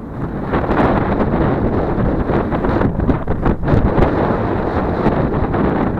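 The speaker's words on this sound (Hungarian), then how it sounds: "nem lehet ezt nem hallani, hogy baromira fúj a szél" Strong, cold wind roars steadily and loudly on a walk between Aszófő and Balatonfüred, buffeting the microphone with a constant low rumble and no voices.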